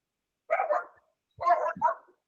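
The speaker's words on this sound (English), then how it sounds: "Just a dog." A dog barks nearby in two short bursts, a single bark and then a quick double bark, with silence around them.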